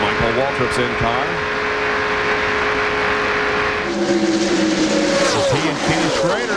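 In-car audio from Michael Waltrip's NASCAR stock car at Daytona in 1996: a loud, steady engine drone with shifting pitch, plus other cars roaring past, under continuous broadcast commentary.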